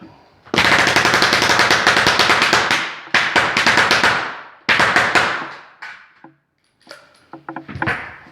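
Senco pneumatic nail gun driving nails through cardboard into a table, loud rapid bursts of sharp clacking shots in quick machine-gun-like strings, pausing briefly between runs and ending in a few scattered single shots.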